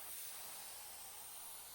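A spray gun applies water-based top coat to an 80-year-old Lane cedar hope chest, giving a soft, even, continuous hiss at low level with no pauses or voices.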